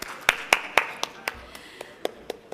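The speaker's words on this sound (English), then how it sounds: "let's have good clapping now" Audience applause at a summit session, heard as about ten separate sharp claps spaced fairly evenly, loudest at first and then thinning out, with a faint voice underneath.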